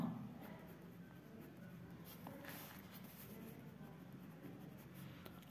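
A pen or pencil scratching across paper while a math problem is written out, soft continuous scraping with small taps, very quiet over a faint room hiss.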